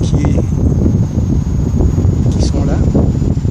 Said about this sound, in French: Alors le vent vient de face et nous verrons si ça fait du bruit dans la caméra